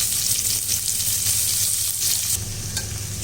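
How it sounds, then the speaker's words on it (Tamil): Ginger, garlic and onion sizzle steadily in a hot pan, a dense crackling hiss with occasional stirring scrapes, close and continuous. "இப்போ இஞ்சி பூண்டு வெங்காயம் எல்லாம் நல்லா வதங்கியாச்சு."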